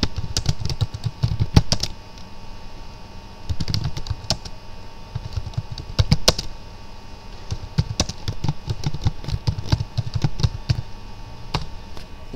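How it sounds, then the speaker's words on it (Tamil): Typing on a computer keyboard with Caps Lock on while working in Microsoft Word 2016: close, crisp keystrokes in irregular quick bursts with brief pauses, continuing throughout with no talking. "ஆன் பண்ணிவிட்டு இப்போ டைப் பண்ணி பாருங்கள்."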